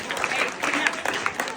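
An audience applauds the children, a dense, steady wash of clapping with no gaps, fairly close and even in loudness throughout.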